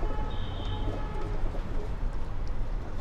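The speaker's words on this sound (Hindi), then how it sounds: "ये कबूतरी है" Pigeons coo softly in a loft, a low, steady burbling murmur that runs throughout, with faint background noise and no talking.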